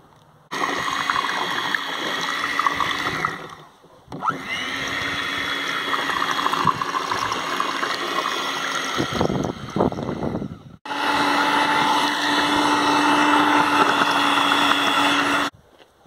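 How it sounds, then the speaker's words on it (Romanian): A hand mixer blends cooked wild rose hip pulp for jam, running in loud, steady bursts with a brief stop and short rattling knocks between runs. "Și voi mixa în continuare cu mixerul pentru a se zdrobi foarte bine întreaga masă"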